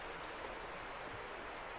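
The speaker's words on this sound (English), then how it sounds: "down in that draw there is the creek that Rainbow Falls is on. So that's what you're hearing there." A creek in a wooded draw below Rainbow Falls in Jones Gap State Park, South Carolina, after Hurricane Helene, heard as a faint steady distant rush of flowing water with no voices.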